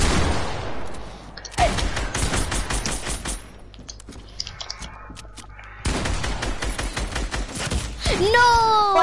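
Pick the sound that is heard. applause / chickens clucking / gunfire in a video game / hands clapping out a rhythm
gunfire in a video game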